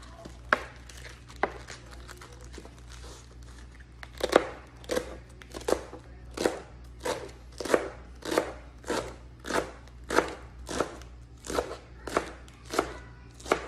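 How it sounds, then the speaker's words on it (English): A knife slices through rolled-up leaves on a board, first a few spaced cuts and then a steady run of about twenty crisp, even strokes, close and clear with no talking. "Roll up the leaf. And then put some little slices on these."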